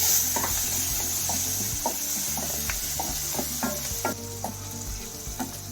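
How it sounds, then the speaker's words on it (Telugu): Green chillies frying in hot oil with turmeric and cumin for a mutton curry, a steady close sizzle broken by repeated clinks and scrapes of a spoon stirring the pan, with no talking. "పసుపు జీలకర్ర వేగిన తర్వాత పచ్చిమిరకాయలు కొంచెం వేగనివ్వాలి"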